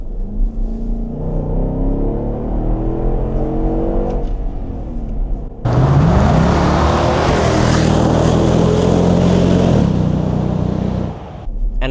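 Nissan Patrol Warrior V8 (Y62) with side exhaust, first idling with a steady low burble, then roaring loudly up through the revs under hard acceleration, close and sustained before easing off at the end.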